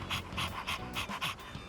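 A dog in the video game Persona 3 Reload pants in quick, steady bursts of breath, about six rhythmic puffs over less than two seconds, close and clear with no talking.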